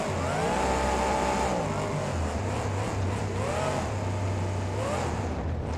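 Monster truck engine in the BeamNG driving game revs hard and continuously, loud and close, with rising and falling pitch sweeps as the truck launches over stacked vans.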